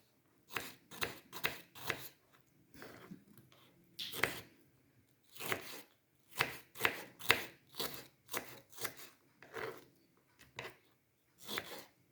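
Onion being chopped with a knife on a board in a home kitchen, heard as bursts of quick crisp cuts, several strokes per burst separated by short pauses, close and fairly clear with no talking.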